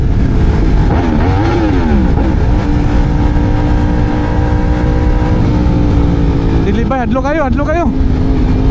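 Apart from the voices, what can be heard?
Yamaha R1M motorcycle engine revving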